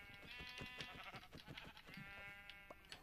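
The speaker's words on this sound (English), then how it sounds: "is that sheep?" Sheep in Minecraft bleat several times over steady game background noise, with repeated short harmonic calls that are clear and fairly close.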